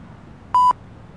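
A single short electronic beep tone sounds from a confession booth in the Floyd video game, a clean steady pitch lasting a fraction of a second against a quiet background.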